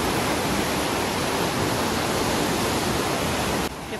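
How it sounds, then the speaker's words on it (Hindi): Fast-flowing water in the Indira Gandhi Canal rushing loudly and steadily, a dense broadband roar close by that fills the whole clip with no voices. "देखिए कितना स्पीड से पानी चल रहा है, आवाज बहुत आ रही है पानी की"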